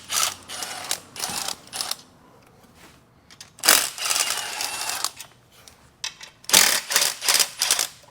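Bursts of ratcheting clicks as a wrench works 10mm manifold bolts off the engine of a Chrysler Town & Country or Dodge Grand Caravan, three clusters of rapid mechanical ticking separated by short pauses, close and fairly loud.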